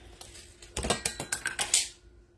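A sewing machine top stitches along a curve while making a wallet, running in a short burst of rapid mechanical clacks and whirring for about a second and a half, close by, with no talking.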